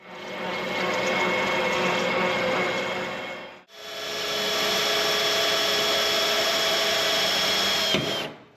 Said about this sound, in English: So we'll start drilling some holes and then go from there.